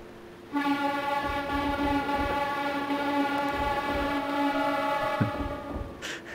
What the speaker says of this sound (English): Before crossing a railway bridge, sound your horn.